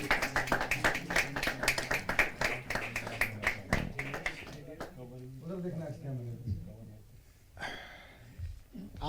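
An audience at a Hindi kavi sammelan (poetry gathering) claps in a brisk patter of hand claps for the first few seconds, mixed with a man's speech, before the clapping fades and talk continues.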